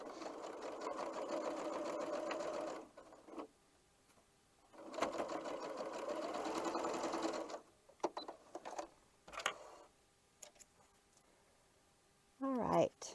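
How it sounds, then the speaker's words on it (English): A sewing machine stitches a quarter-inch seam on a scrappy Irish Chain quilt block in two steady, fast-running bursts separated by pauses, close and clear. A few clicks and handling noises follow. "So let me run it over here and stitch a 1/4 inch seam allowance"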